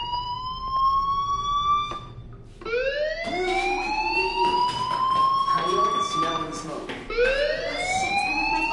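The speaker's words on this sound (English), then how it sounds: "Hey, do you hear that fire alarm? That means you should be outside." A fire alarm in the video game Life is Strange wails with repeated rising siren sweeps, loud and continuous across the clip, with a short dip before it restarts, while a voice talks over it.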